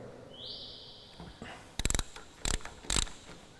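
Spanner working loose the bolts on an EGR valve: a brief ratcheting turn followed by three sharp metallic clicks and scrapes, close and fairly loud, with no talking.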